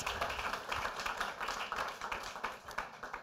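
Applause from an audience at a Wikimedia fellowship programme event as a trio returns to their seats, a steady dense patter of many hands clapping at moderate volume without pause.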